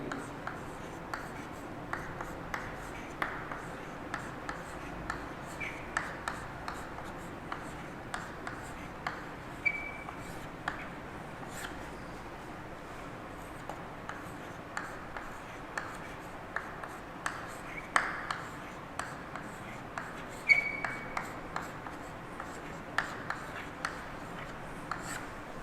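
Chalk or marker writes on a board during a maths lesson, making short scratchy strokes and taps in irregular bursts throughout, close and moderately faint, with no voice over it.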